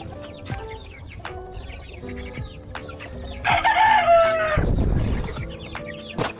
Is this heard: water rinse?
no